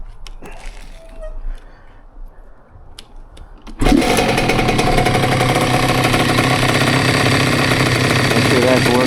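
Honda CR85 dirt bike, freshly rebuilt with a Wiseco kit, starts after quiet background and settles into a loud, steady, close two-stroke idle that runs to the end.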